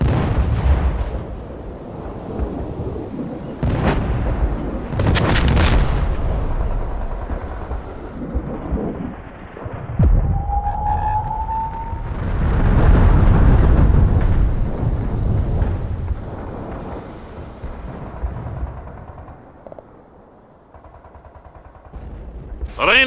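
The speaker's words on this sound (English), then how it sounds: "We can deploy and lay down a heavy barrage." Heavy booming blasts and rumbling explosions from an artillery barrage in the video game World in Conflict, loud and repeated, with low rolling thunder between impacts.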